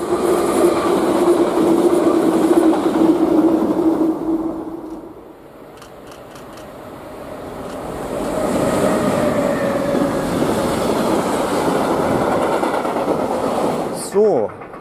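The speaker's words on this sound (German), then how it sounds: "Als erstes hatten wir den Regionalzug und als zweites eine ELL Vectron." A regional train passes close by with a loud rushing rumble, then fades, followed by an ELL Vectron locomotive with its train rolling past in a long steady roar and a faint squeal at the end, with voices speaking over parts of it.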